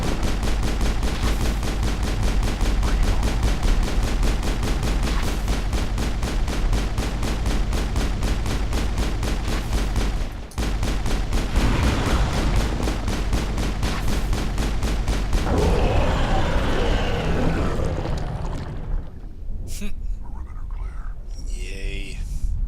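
Rapid, sustained gunfire in the Mass Effect game, a dense stream of evenly spaced shots running loud and close for most of the stretch before breaking into scattered bursts and rumbling effects.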